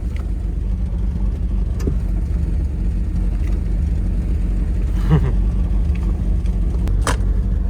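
A Datsun 280ZX engine runs at a steady, loud idle with a low rumble, while a few brief clunks and clicks suggest attempts to engage a gear that won't catch.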